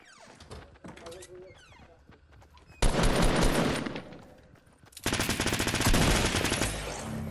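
Fortnite gunfire rips in two loud, sustained bursts of rapid shots, each lasting a couple of seconds and separated by a short gap. Quieter game noises come first, and players talk during the shooting.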